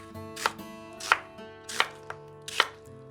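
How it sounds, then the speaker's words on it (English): A knife chops an onion into chunky wedges on a board, four firm, close, evenly spaced cuts with a lighter tap between them, and no voices. "1 onion, and you just want to cut it into chunky wedges."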